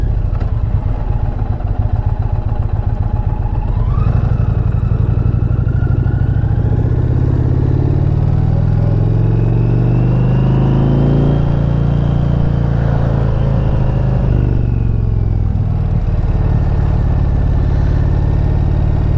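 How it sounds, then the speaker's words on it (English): A 2021 Indian Challenger Limited motorcycle engine drones loud and close while riding, with throttle rising and falling through the gears and steady wind rush across the whole stretch. "Oh god, this is why I love motorcycle riding."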